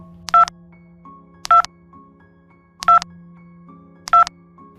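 A telephone is dialed: four crisp touch-tone beeps evenly spaced about a second apart, clear and alone over a faint steady hum.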